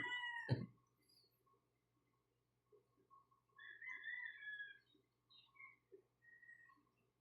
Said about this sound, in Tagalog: daming manok doon sa kapitbahay